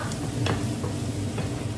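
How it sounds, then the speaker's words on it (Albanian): Onion frying in a pan gives a dense sizzle, with stirring scrapes and faint clicks on top in a short, close take. "Sa po të skuqet qepa,"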